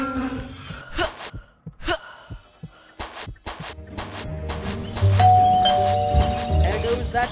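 A doorbell in the horror game Scary Teacher 3D chimes in short, loud bursts, several rings spaced through the clip, over game music and character voices.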